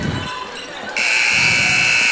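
At the end of a quarter in a high school basketball game, a long, loud electronic buzzer sounds and holds steady, following crowd and court noise in a gym.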